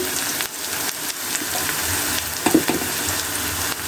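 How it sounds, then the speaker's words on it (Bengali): Fried onions added to a pan for broccoli bhaji give a strong, continuous sizzle with a few brief stirring bumps partway through, close and fairly loud with no voices. "পেঁয়াজগুলো আমার লাল লাল করে ভাজা হয়ে গেছে আমি দিয়ে দিচ্ছি"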